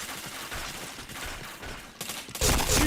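Gunfire in the PointBlank shooter game: dense, rapid bursts of shots crackling one after another, growing louder and heavier toward the end, with no talking.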